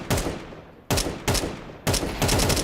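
AK rifle fire in a Counter-Strike match: three sharp bursts of rapid shots, loud and close, separated by brief pauses.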